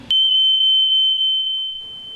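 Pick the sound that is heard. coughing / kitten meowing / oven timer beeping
oven timer beeping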